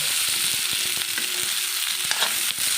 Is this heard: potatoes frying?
yes